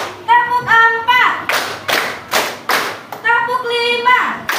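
A classroom of children doing a rhythmic focus clapping routine, with sets of loud, sharp unison claps falling in counted bursts between a teacher's chanted prompts and the pupils' voices.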